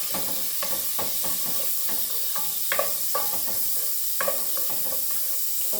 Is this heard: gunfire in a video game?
no